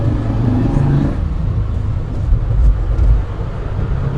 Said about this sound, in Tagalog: So marami sasakyan na dumadaan.